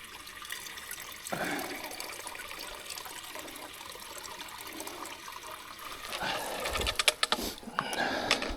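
On a mountain hike, old water is poured out of a bottle, first as a soft trickle, then as a louder splashing gush near the end, heard close up without talk.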